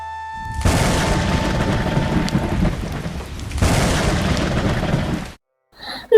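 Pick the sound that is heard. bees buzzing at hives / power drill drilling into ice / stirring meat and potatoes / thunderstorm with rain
thunderstorm with rain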